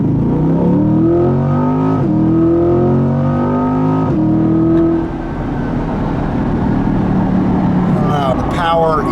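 A C8 Corvette with an aftermarket exhaust and new air filter accelerates, engine revving loudly with rising tones and a shift near four seconds, then droning steadily under a brief voice.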